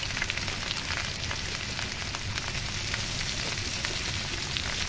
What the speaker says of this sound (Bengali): হলুদের গুঁড়া, মরিচের গুঁড়া, দিয়ে ভালোভাবে ভেজে নিতে হবে।